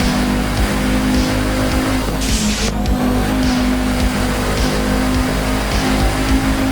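A rally car races along a stage in the Assetto Corsa Rally video game, its engine droning steadily and close while the tires squeal and skid on the surface.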